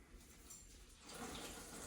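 A washcloth is rinsed in a basin of water during a bed bath, giving a quiet splashing and trickling that swells in the second half, faint and close.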